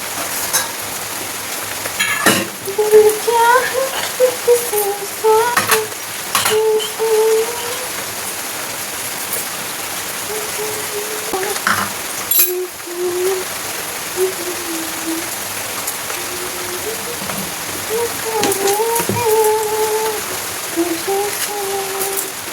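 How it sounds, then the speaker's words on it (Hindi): Heavy rain pours down outside on a morning, a dense, steady hiss that runs unbroken from start to finish, with faint tonal sounds drifting in and out behind it. "लेकिन आज इतनी ज़्यादा बारिश हो रही है"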